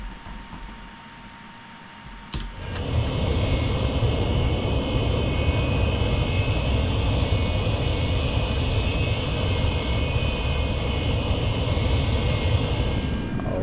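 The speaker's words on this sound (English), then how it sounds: "Alright, we'll put the gear down now." The landing gear of a Delta MD-88 lowers on approach in Microsoft Flight Simulator 2024 with a sudden thump, and the steady cabin engine drone swells into a louder, constant rumble that holds for the rest of the stretch.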